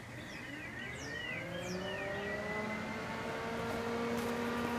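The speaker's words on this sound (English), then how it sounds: "we can now test this fan" Electric cooling fan on a Classic Mini, switched on and running with a steady, even whoosh that swells slightly. Birds chirp in the background.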